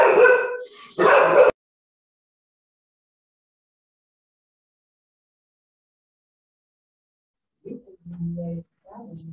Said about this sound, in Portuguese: Desculpa pelo latido, ainda bem que foi o final.